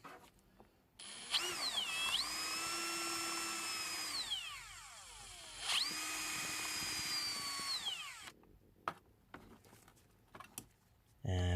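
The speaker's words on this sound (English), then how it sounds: "Giving another spin on the drill." A power drill spins up twice in two long whirring runs, each pitching up and holding steady for a few seconds, close and fairly loud, while drilling out rivets to restore a die-cast Matchbox Lesney Mercury police cruiser toy car.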